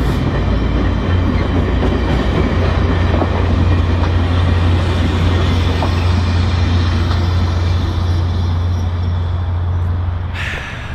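A train rumbles past close by for the whole stretch, loud steady wheel noise with faint rhythmic clatter, easing off slightly near the end.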